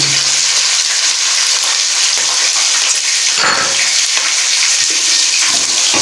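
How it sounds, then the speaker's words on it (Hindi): Peas and carrots fry in a pan with lightly browned garlic, giving a loud, continuous hiss and sizzle with occasional stirring scrapes and no talk. "तकरीबन 2 मिनट तक हम इसको बीच में भूनेंगे, मिक्स करेंगे।"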